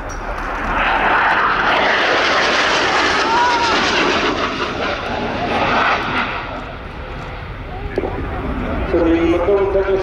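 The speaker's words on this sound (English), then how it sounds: "the McDonnell Douglas AV-8B Harrier 2 was a joint project between the US and the UK to develop a new generation of Harrier" A McDonnell Douglas AV-8B Harrier II jet flies its airshow display at RIAT 2024. Its engine gives a loud, sustained roar that swells and shifts in pitch as it passes, with a voice audible underneath.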